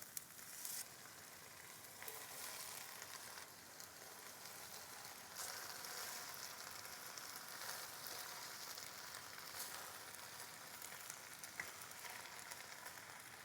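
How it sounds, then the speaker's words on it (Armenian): Tomato juice fries gently in a pan for a bean dish, a soft, steady hiss of sizzling with occasional faint pops, low in level and without talk. "հիմա լոլիկի հյութը, այսպես հանգիստ պետք է մի քիչ տապակենք, մի 2-3 րոպե, որպեսզի հում չմնա"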